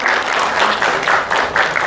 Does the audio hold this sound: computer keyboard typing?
no